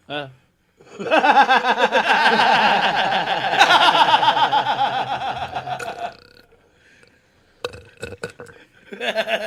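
A child's gurgly burp, wet and rumbling, stretches over several seconds and is loud and close, followed by quiet and then a few short bursts of vocal sound.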